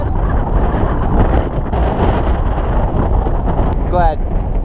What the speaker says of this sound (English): God, this wind is ridiculous.